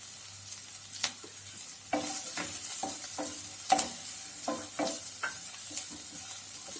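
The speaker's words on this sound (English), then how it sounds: "Now I am adding my broccolis to it" Broccoli florets go into a frying pan with a soft continuous sizzle and repeated scraping, clacking stir strokes from a spoon, close and fairly quiet.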